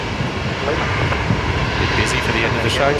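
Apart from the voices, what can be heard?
aircraft at Brisbane Airport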